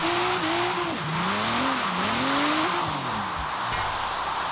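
A car drifting in Forza Horizon 3, tyres squealing in a wavering, pitch-bending screech over a loud, constant engine roar that holds steady throughout.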